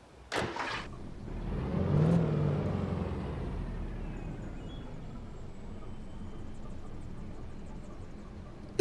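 Car engine in the video game Alan Wake Remastered: a brief clunk, then the motor revs up and rumbles steadily, swelling to a peak before settling into a lower, continuous drone, moderately close.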